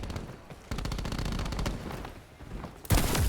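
Tempest rifle fire in a Call of Duty match, rapid bursts of shots cracking in quick succession with a brief lull before a louder burst near the end.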